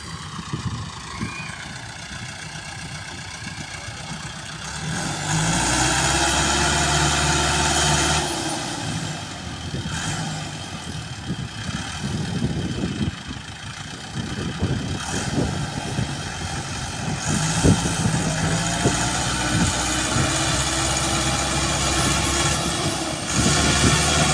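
A Massey Ferguson 385 4x4 tractor engine runs steadily outdoors, a loud diesel drone that rises and falls with load, dipping briefly mid-way before surging back up, with no talking.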